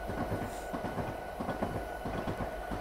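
A double-stack freight train from the Quakertown and Southern route in Train Sim Classic rolls along with a steady, moderately quiet rhythmic clatter of wheels over rail joints.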